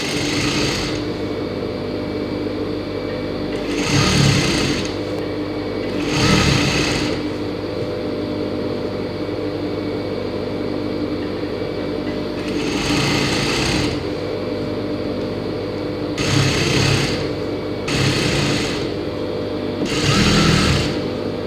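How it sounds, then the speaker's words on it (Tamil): A sewing machine stitches a gathered pant hem in steady, even whirring bursts that start and stop several times. It is close and clear, with no talking. "பாருங்கள், கடைசி வரைக்கும் தைச்சாச்சு."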